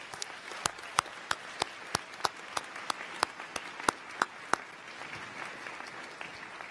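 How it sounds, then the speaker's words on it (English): Applause at the College of DuPage's 56th annual commencement: sharp, evenly spaced claps ring out close and loud above a softer bed of crowd clapping, fading out after several seconds. "Graduates, please give them a round of applause."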